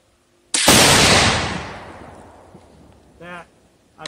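A single loud rifle shot from a Savage Axis II heavy-barrel rifle chambered in 6.5 Creedmoor, a sharp crack with a long echoing decay outdoors, followed by a brief bit of speech.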